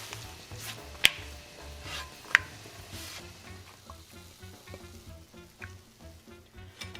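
Stuffed poblano peppers sizzle and crackle in a pan over low heat, a steady close frying hiss with a couple of sharp clicks or pops, no talking.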